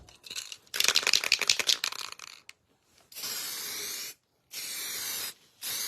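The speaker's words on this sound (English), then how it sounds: "spray paint." Spray painting: several hissing bursts from an aerosol can, the first sputtering, then steady sprays separated by short pauses, close by.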